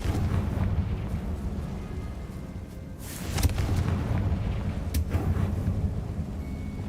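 A Confringo blasting spell in the Hogwarts Legacy video game sets off a loud, booming explosion midway, followed by a second sharp blast. Both ride over a dense, rumbling background roar, with no talking.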